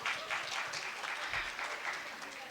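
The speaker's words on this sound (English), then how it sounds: "So huge round of applause for Patna Obs Gynae Society." A conference audience at a Patna obstetrics and gynaecology society event applauds: brief, steady, fairly faint massed clapping heard alone.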